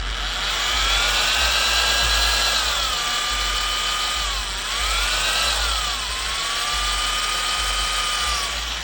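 A seal removal tool piercing the main shaft seal on a 1970s–1990s Harley big twin, heard as a steady, whining power-tool drone with pitch sweeps dipping and rising twice, close and continuous without talk.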